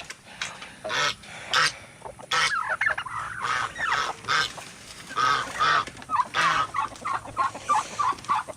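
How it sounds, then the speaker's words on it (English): Geese and other farm fowl honk and call repeatedly as they are let out of a coop, a busy, close chorus of overlapping squawks and honks with no talking. "we're going to let the birds out here"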